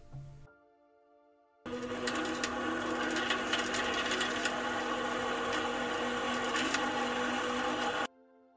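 Sewing machine stitching the outer fabric and lining of a 1930s-style bonnet, a steady close whirring run of about six seconds that starts and stops abruptly after a brief quiet pause.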